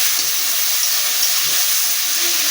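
Tomatoes frying in a little oil with a spoonful of salt, giving a steady, loud hiss and sizzle throughout with no break.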